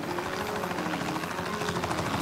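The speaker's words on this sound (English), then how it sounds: "It's coming from above us. It's a helicopter." A helicopter in an audio drama chase scene passes overhead with a steady, close rotor drone that holds at an even, loud level throughout.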